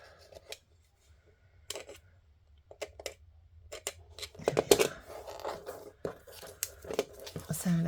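Scissors cut paper for a bellyband pocket with tag in a papercraft setting, making scattered close snips that thicken into a quicker run of crisp cuts and crinkles.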